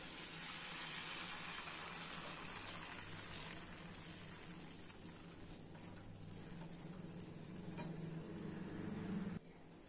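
Dosa batter for a Mysore masala dosa sizzling steadily on a hot pan, a continuous close crackle and hiss that holds even through the clip before dropping away right at the end.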